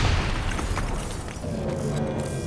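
A heavy explosion rumbles in the Call of Duty Black Ops III video game. It is a loud, dense, sustained blast with deep booming low end and crackling debris throughout.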